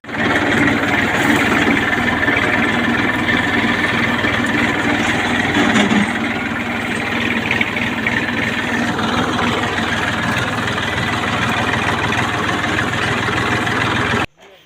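Tractor engine running steadily in a fennel field, a loud, constant low diesel drone with vibration heard up close, steady throughout before cutting off at the end, with little talk.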